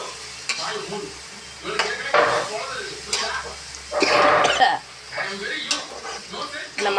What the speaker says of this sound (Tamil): போட்ட உடனே இந்த மாங்காயை கொட்டிடுறேன். கொட்டிட்டு சிம்மில் வச்சு தடவி விடணும்